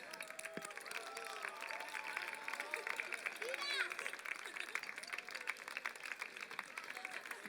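At an awards ceremony, applause from the audience fills the room as a steady, moderately faint wash of clapping, with crowd murmur and chatter mixed in throughout.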